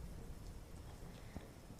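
Steady rain falls outdoors in a dense, even patter, moderately faint and continuous with no voices.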